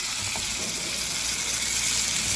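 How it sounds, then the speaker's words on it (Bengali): Rohu fish pieces frying in a pan give off a steady, soft sizzle and hiss that runs the whole time, fairly close and even, with no talking over it. "মাছ ভাজা হইতে আছে।"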